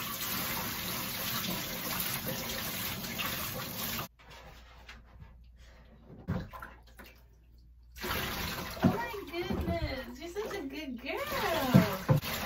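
Water runs loudly from a shower head while a dog is bathed, in a steady gush that stops for a few seconds and then starts again, with a voice talking over it.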